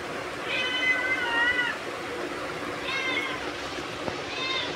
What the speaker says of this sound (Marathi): मांजर आली आमच्या घरी कोणाची तरी. आली का अशी ओरडत असते.